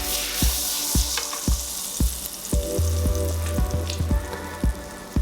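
Butter and olive oil sizzle steadily in a pan, a close, continuous frying hiss with a regular series of sharp utensil taps and scrapes about every half second; no one speaks.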